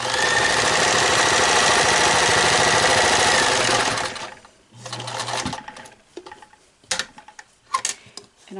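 A sewing machine stitching a fabric face mask runs in a loud, steady rapid whir for about four seconds, then stops, followed by quieter handling clicks and rustles.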